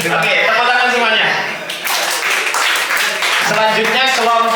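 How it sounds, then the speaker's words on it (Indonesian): Students at a vocational school workshop applaud with a brief burst of clapping, mixed with voices and some chuckling, and the clapping rises and falls over a few seconds. "Oke, tepuk tangan semuanya."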